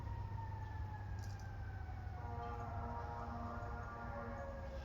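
Distant wailing sirens from emergency vehicles, a couple of tones sliding slowly and overlapping, faint above a steady low rumble of traffic.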